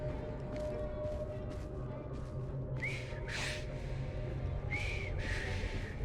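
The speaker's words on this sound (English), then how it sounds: "I've just learned to whistle." A character in the video game Assassin's Creed Syndicate whistles a few short, thin notes midway through, over a constant low ambient hum with no talking.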